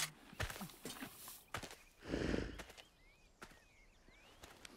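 A horse walks with steady clip-clopping hooves in an animated Zog dragon story, the footfalls close and rhythmic. A louder rustling burst comes midway, and light chirps sound toward the end.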